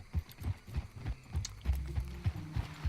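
Horse hooves clip-clop steadily at a walking pace in the Red Dead Redemption 2 video game, a close, even rhythm of soft thuds with faint tack rattle.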